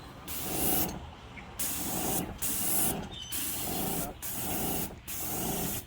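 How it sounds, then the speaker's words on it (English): A Wagner Control Pro 130 paint sprayer spraying fence stain hisses in about six strong bursts, each a second or so long, separated by brief pauses. "I'm going to unlock my spray trigger, and I want you to see the pattern here."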